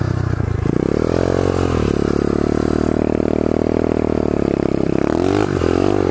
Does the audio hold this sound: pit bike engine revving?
yes